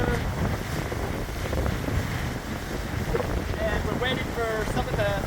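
Strong, steady hurricane wind at an open shoreline park, roaring and buffeting the microphone continuously, with a voice talking briefly near the end.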